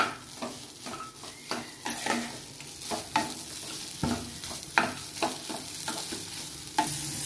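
A spoon stirs idli upma with squeezed lemon juice in a pan on the stove, giving repeated scraping strokes and soft clinks over a gentle sizzle, close and steady, with no voices.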